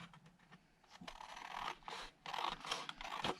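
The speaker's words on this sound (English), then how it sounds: "Let me just use my scissors to cut this." Close, quiet snips and rustles of scissors cutting through paper, several short strokes in an uneven rhythm.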